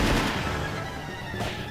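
Bursts of machine gun fire from the 1998 Sega Model 2 arcade game Dynamite Cop come loud and close in a dense crackling burst, tailing off and then sharpening again near the end.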